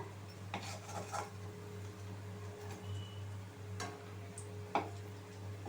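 Fried kofta balls lifted from the pan into a bowl, with a few quiet clinks and taps of a utensil against metal over a steady low hum; no talking.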